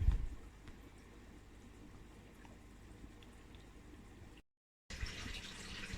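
Water runs steadily into a newly laid pond liner for a koi grow-on pond, a soft, continuous rushing flow at low volume that cuts out briefly near the end.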